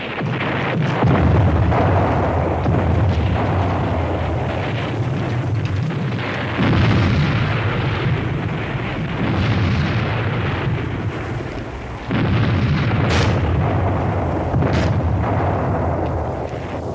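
In a war film set against Japanese fortified positions, artillery fires with heavy, rolling booms and explosions. The blasts repeat over a constant rumble, with several sharp bursts toward the end.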